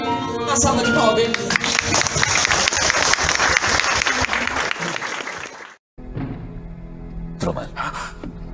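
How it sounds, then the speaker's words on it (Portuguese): An audience claps in a loud dense burst that runs several seconds and is mixed with tonal sound, then cuts off abruptly into a quieter, different passage. "Uma salva de palmas."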